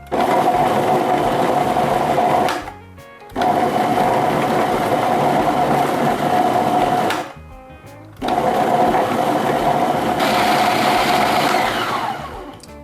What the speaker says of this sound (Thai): เราจะเริ่มปั่นที่สปีด2ก่อนนะคะ แบบเบาก่อน